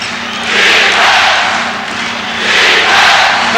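Basketball arena crowd at a 1993–94 New York Knicks game roaring in two broad swells, a loud sustained mass of voices filling the space.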